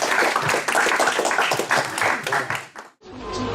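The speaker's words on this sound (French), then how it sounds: "on va applaudir Jean-Paul Olivier." Applause from an audience at a talk, dense, close clapping that fills the room for nearly three seconds before cutting off abruptly, followed by a quieter stretch of room sound.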